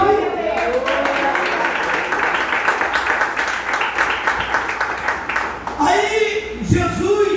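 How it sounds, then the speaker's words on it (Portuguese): A church congregation applauds during a sermon, sustained clapping with voices mixed in, before the preacher's voice returns near the end. "Você pode aplaudir?"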